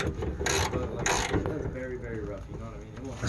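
Metric socket on a ratchet threading a bolt on a 1988 Ford Thunderbird during fuel gauge repair, with a couple of sharp bursts early, then softer rattling and low handling noise up close.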